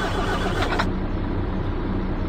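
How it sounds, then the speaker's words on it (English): A Marcopolo G71800DD 8x2 bus engine starts in Euro Truck Simulator 2, then settles into a brief, steady low rumble at close range. "So if we turn the engine on now,"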